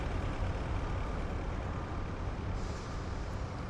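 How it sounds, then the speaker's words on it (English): Heavy vehicle traffic in the war game Foxhole, a steady loud rumble of trucks and engines running continuously without pause. "There's a lot of traffic right here."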